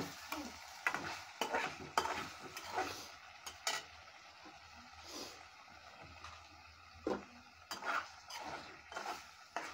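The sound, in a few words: shing fish with tomato frying in oil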